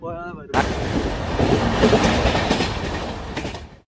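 A loud, steady train rumble with rattling clatter at a railway junction, Virudhachalam Junction, cutting off abruptly near the end.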